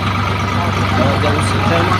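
A tractor engine runs on a village farm with a steady, loud, low throbbing drone, while a person speaks over it.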